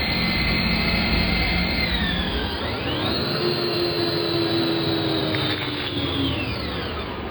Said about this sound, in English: This machine is cutting stone into beautiful patterns, with each cut sharp and delicate